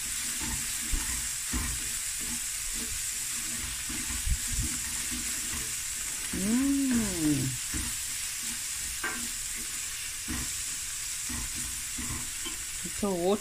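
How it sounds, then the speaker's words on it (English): Stirring sugar bean bredie with tomato paste, salt and pepper in a pot, a spoon scraping and clinking against the pot under a continuous sizzle, with a few distinct scrapes standing out. "Give it a stir."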